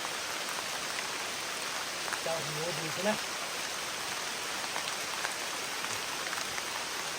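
Steady rain pours down outdoors as a dense, even hiss, while people sheltering under cover talk over it.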